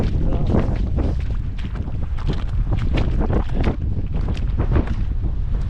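Strong wind buffets an open boat on the water during a storm while night fishing for burbot, a steady loud roar with gusty bursts rushing over the microphone throughout, and no voices heard.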